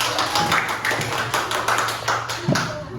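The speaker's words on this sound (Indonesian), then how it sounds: "Tepuk tangan dulu" Children clapping their hands together in an elementary school classroom, a quick run of claps followed by a short rhythmic burst, with steady room noise and a low hum underneath.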